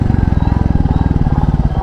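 A 2021 Royal Enfield Classic 350 motorcycle rides in first gear, its single-cylinder engine thumping in a steady, rapid rhythm up close, loud and continuous with a slight dip near the end.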